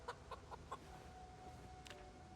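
Chickens cluck softly in a Project Zomboid survival game, a few short clucks near the start and another pair later over a low, steady background hum.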